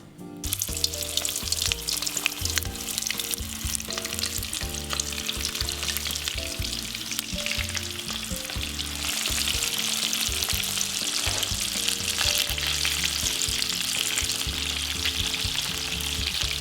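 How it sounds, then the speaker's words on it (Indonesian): Loud, continuous sizzling and crackling of breaded shrimp frying in oil at about 150 to 170 degrees Celsius, steady throughout with a dense spattering hiss. "Kita akan langsung menggorengnya."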